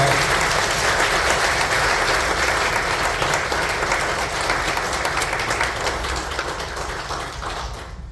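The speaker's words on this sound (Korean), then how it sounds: "힘찬 박수 부탁드립니다" Loud, steady applause from a church congregation at a Korean Presbyterian installation and ordination service, dense continuous clapping that fades slightly toward the end.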